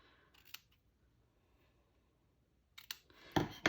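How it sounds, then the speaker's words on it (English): Paper for a small craft box is trimmed with a few faint, close snips and clicks. Long quiet gaps separate them, and a brief cluster of handling comes at the end. "And I'm going to just trim this down."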